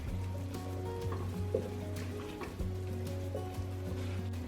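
Ground meat stirred and frying in a pan with onions and garlic, with a steady sizzle under scraping spoon strokes and faint background hum.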